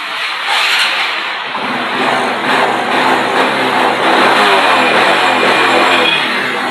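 A Honda RS 125 motorcycle, recently repaired for misfiring after six years without maintenance, runs nearby on a rainy morning, its engine note swelling and revving unevenly over a steady idle.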